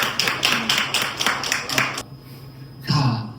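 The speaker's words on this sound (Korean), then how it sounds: "우리 주님께 영광의 박수를 한번 올려드리겠습니다." Church congregation clapping in praise during a Korean Sunday worship service, a brief round of rhythmic hand claps that stops abruptly, followed by a short pause and a voice.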